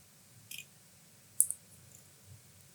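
Wire being trimmed to length for a fishing assist hook gives a few sharp, soft clicks spaced over a couple of seconds in an otherwise quiet room.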